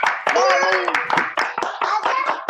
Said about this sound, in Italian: e vi facciamo un applauso